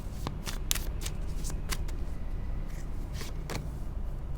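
Tarot cards are shuffled close up, a run of soft rustling riffles and crisp flicks repeating irregularly throughout, with no voices over them.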